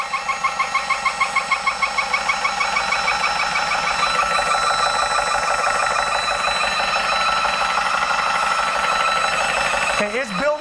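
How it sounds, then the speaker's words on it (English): A DMCUSA 12V airgun compressor running steadily, its rhythmic pumping drone loud and close, with a piercing harmonic whine throughout and a brief shift in pitch near the end. "All right, the compressor's running."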